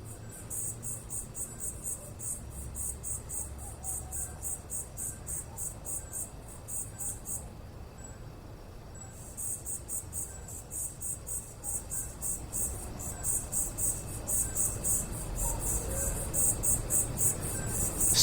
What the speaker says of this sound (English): the insects, the cricket, and the owl are all sort of very screechy